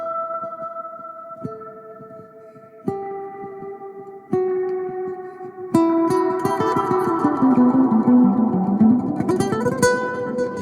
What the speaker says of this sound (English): And I have more of that living reverb.